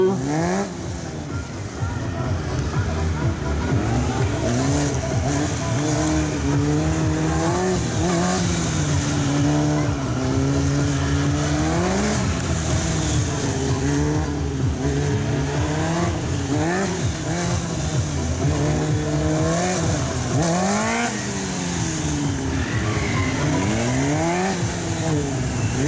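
A race car runs a figure-eight course in a timed motorsport round, its engine revving up and down continuously with tire noise, under a commentator's steady voice.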